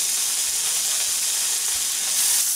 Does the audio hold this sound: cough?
no